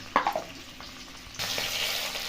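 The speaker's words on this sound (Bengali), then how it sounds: "আলু ভাজা হচ্ছে" Potatoes fry in hot oil for dum aloo, a few sharp crackles at first and then a steady, fairly quiet sizzle swelling up for the last second.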